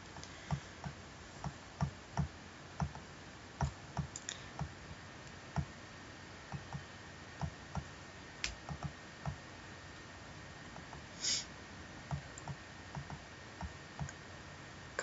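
Sharp, quiet computer mouse clicks come in an irregular run, singly and in quick pairs, close up against a near-silent room with no talking.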